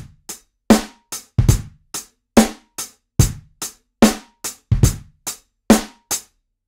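Crisp finger-drummed hits tapped out in a steady, swung hip-hop pattern, kicks and snares alternating with short gaps, a swing note before the kick, close and clear with no voices.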